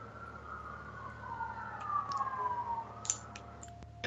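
An ambulance siren wails in the distance, its pitch sweeping up and down over steady traffic rumble, with a couple of sharp clicks near the end.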